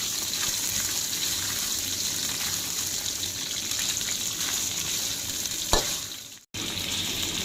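Fingerroot stir-fried in a hot pan for a simple home-style Thai spicy pork stir-fry, sizzling and crackling loudly and steadily, with one sharp scrape near the end and a brief cutout before the sizzle returns.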